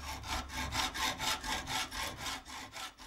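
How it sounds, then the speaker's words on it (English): A metal gyroplane lever being worked by hand with a file, heard as steady, rhythmic back-and-forth rasping strokes at close range, about two strokes per second, with no talk. "He lobs off the end of the lever and subjects it to a bit of drilling and filing."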